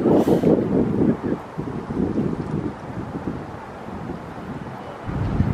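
Strong wind gusts roar and buffet the microphone outdoors in Chicago, a steady low rumble that swells and eases over several seconds.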